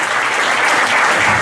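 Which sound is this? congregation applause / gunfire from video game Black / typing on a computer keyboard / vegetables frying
congregation applause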